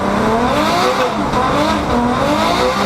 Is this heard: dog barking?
no